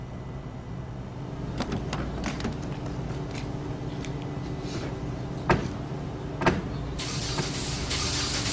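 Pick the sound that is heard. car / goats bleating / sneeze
car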